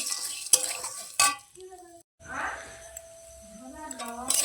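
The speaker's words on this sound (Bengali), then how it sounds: "ভালো করে এটাকে আমি ভেজে নেবো।" Maggi noodles being stirred and fried in a pan, with scraping spoon strokes against metal and light sizzling, broken by a short silence, with a voice speaking over parts of it.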